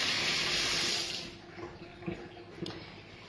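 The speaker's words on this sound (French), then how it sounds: "On se rince les mains parce que avec les œufs" Tap water runs hard over hands being rinsed at a kitchen sink after handling eggs, a loud close rush that eases after about a second into softer splashes and drips.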